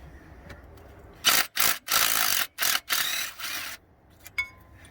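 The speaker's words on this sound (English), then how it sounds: "let's remove these six bolts." A ratchet removes the water pump bolts on a Chevy Silverado 1500. It makes a close, loud series of rapid clicking bursts, about six, separated by short pauses, then a faint metallic tick at the end.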